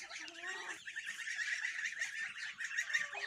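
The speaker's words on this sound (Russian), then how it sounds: "Да, утки?" A flock of ducks kept with a drake quacks continuously at close range in a duck house, the harsh calls overlapping thickly throughout with no talking.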